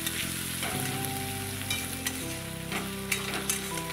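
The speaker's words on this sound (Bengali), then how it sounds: "রসুনটাও আর একটু নেড়ে নেব।" Onions and crushed garlic stirred as they fry in hot oil for a Bengali katla fish dish, a steady close sizzle broken by a few louder scrapes of the spoon against the pan, with no talk.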